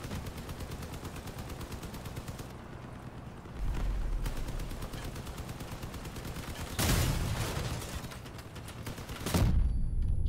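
Gunfire and machine guns from the vehicle combat game Crossout: a steady stream of rapid automatic fire runs throughout, broken by a few heavier blasts, with no voices over it.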